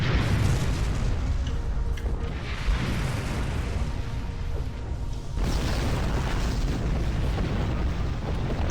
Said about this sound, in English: Even the explosion from the ship